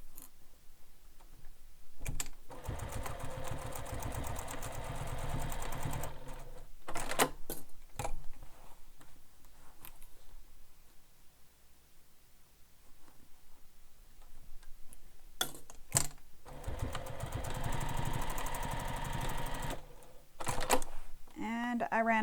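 A sewing machine stitches a handbag handle in two long bursts of rapid mechanical ticking, with quiet pauses and short clicks between them.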